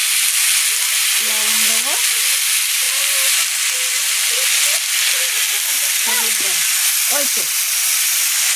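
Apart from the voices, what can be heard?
ridge gourd and greens boiling in cooking pot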